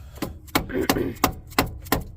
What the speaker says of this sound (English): I'm using a dead blow, I know.